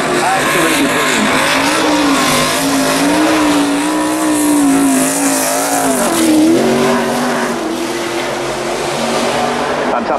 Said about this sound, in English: Is this a Chevrolet V8 powered Red Bull sponsored hairdryer?